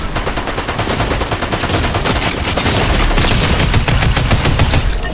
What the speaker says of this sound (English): I'm being shot at from like every angle.